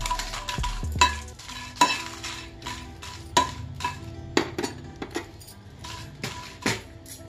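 Dried red chillies fry in a pan for a stuffed brinjal masala fry, with a low sizzle under a string of distinct metallic clinks and scrapes from a spoon against the pan, spaced about a second apart.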